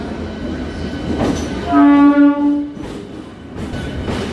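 A morning train pulls into a station platform, its horn sounding a sustained harmonic blast in the middle while the rumble of the rail cars and station bustle continue underneath.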